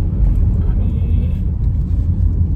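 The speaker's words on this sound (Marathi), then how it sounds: "हा गिअर खरंच हार्ड आहे त्याला, म्हणजे असा आवाज पण येतो याच्यामध्ये" Gear change in a 2024 Tata Altroz XZ CNG car, a dull clunk and rumble heard from inside the cabin over steady low road and engine noise.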